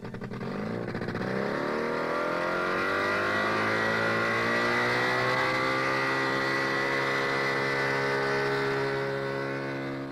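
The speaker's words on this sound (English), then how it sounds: "This revolutionary contraption, for example, is the result of combining two forms of transport, the hovercraft and the motor scooter." A hover scooter, a hovercraft built onto a motor scooter, runs close and loud, its engine droning steadily and climbing gradually in pitch as it revs up, with fan roar throughout and no talk.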